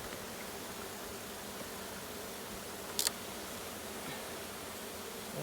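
Honey bees from a newly installed package swarming over frames in a hive, a steady dense hum, close and even, with a brief rustle partway through.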